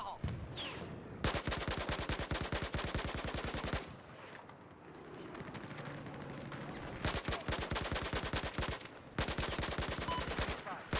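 Bursts of rapid automatic gunfire rattle loudly in long volleys, broken by a short lull of rumbling battle noise.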